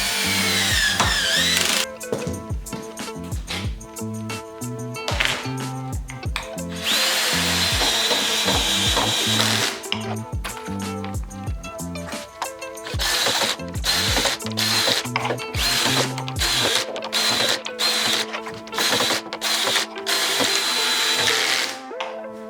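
A power drill driving screws to fix the backboard onto a Nintendo M82 kiosk cabinet, with repeated whirring bursts, short pauses between them and wooden knocks and handling clatter throughout, close and fairly loud.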